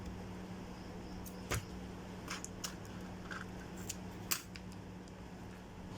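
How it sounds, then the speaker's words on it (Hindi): Scissors snip off extra pieces of adhesive tape while a mobile phone LCD touch screen is being repaired: a few quiet, sharp cuts spaced seconds apart over a low steady hum, with no talking. "एक्स्ट्रा पीस दोनों तरफ से आपने काट देने हैं"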